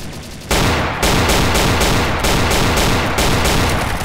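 Rapid gunfire from an M9 weapon in the video game Garry's Mod, a dense, continuous burst of loud shots that starts after a quieter half-second opening and keeps going to the end.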